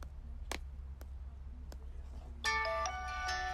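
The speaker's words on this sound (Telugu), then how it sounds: "ఎవరిదైనా ఫోన్ రింగ్ అవుతుంది?" A few faint clicks in a quiet classroom, then a mobile phone starts ringing with a bright electronic melody that continues to the end.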